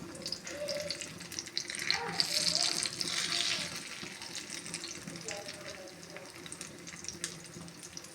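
Food frying in oil for a Barisal-style dish on a gas stove, giving a steady broadband hiss with soft clinks and faint voices in the background.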